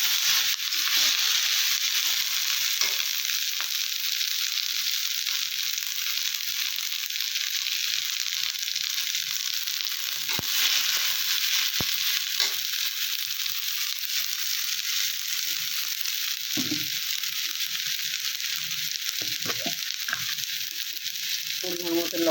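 Green chillies and garlic are stirred as they fry in a pan, a steady bright sizzle running throughout with occasional soft scrapes and knocks of the spatula against the pan.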